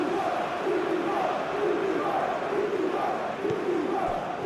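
A football stadium crowd in PES 2021 sends up a sustained roar with rhythmic chanting swells in a simulated Champions League match between Sporting CP and Arsenal, steady and loud throughout.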